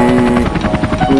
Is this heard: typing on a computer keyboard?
no